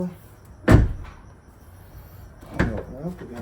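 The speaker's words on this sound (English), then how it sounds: "Close the door." A car door shuts with a solid thump, followed a couple of seconds later by a second closing thud and faint rattles, with some background talk between the impacts.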